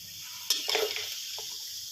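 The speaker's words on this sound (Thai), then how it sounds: "เปิดไฟแรงเลยนะครับอ่าค่อยๆผัดไปนะครับ" Pork ribs stir-fried in a hot pan with no oil give a short scrape and sizzle as they are turned, one sharp clatter followed by softer stirring over a steady low hiss.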